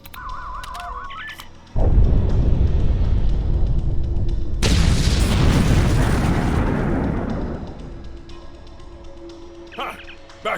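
In Star Trek Online, a loud explosive blast on rock erupts and keeps rumbling, then a second sharp burst adds crackling debris that slowly fades out over several seconds, with a voice speaking around it.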